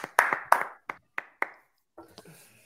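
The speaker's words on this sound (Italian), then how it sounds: "Bell'applauso" A few people clap in sparse, uneven bursts, a short scattered round of applause with soft background murmuring near the end.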